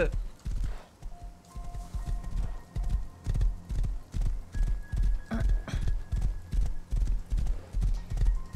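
Horse hooves clip-clop in a steady, quick rhythm throughout in the game Rust, loud and close, with a faint whinny-like tone and a low hum behind.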